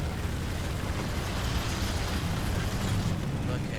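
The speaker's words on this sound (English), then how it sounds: "The cook-off is awesome." A tank's ammunition cooks off in War Thunder, a continuous loud roaring rumble with crackling bursts filling the whole stretch, dense and unbroken from start to end.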